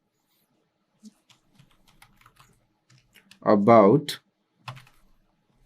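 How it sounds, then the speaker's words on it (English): Typing on a computer keyboard, sparse soft key clicks spread across the span, with a brief spoken word in the middle and a few more clicks after. "So if I type in such things, let's just type in GPT-4 for now."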